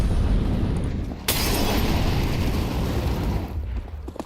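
Grenade blasts go off in a Counter-Strike match, a dense rumbling burst with a sharp new crack about a third of the way in, loud and continuous before fading near the end.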